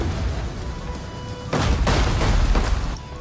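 Gunpowder units firing a volley in Medieval Kingdoms Total War, set in 1212 AD, a crackling burst of massed shots over a low battlefield rumble, loud and close.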